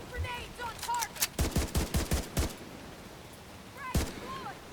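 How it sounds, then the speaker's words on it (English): Grenade launcher rounds fired at a target in a video game: a rapid string of about six heavy thumping shots in steady rhythm, then a lone later shot, with faint whistling tones in the background. "Putting grenades on target."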